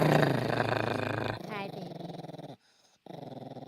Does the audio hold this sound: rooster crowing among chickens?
no